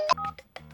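A telephone gives a short burst of electronic tones with a sharp, bright onset, then several quick tonal pulses, close and fairly quiet in an indoor home scene.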